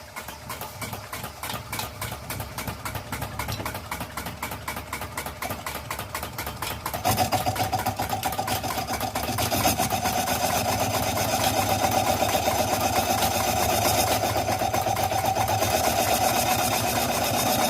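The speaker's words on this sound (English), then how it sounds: "No sniggering about my lathe either. A good old Colchester." A Colchester metal lathe runs steadily at close range, its motor hum joined by rhythmic mechanical ticking that grows louder and fuller partway through, while the machine turns piston rings for a 1929 Chenard-Walcker.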